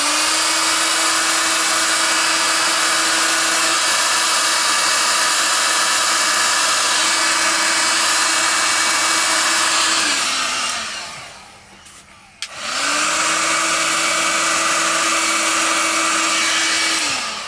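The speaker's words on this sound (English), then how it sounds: "Now, a bit of noise, the old air gun going, sorry about this." An air gun blows air to dry glue while a training slip lead for gundogs is being made, a loud, steady close-up whir that dips briefly as it is switched off, then starts up again.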